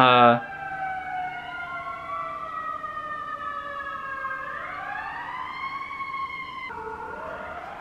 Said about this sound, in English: And those sirens are so loud.